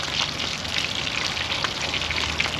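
A couple of red snapper deep-frying in hot oil, a dense, steady crackling sizzle with fine popping bursts, close and loud throughout, with no talking.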